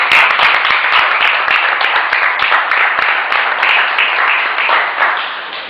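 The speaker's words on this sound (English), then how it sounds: "So please, let's clap for you." A class audience claps together in a steady, dense patter of many hands, close and loud, fading slightly near the end.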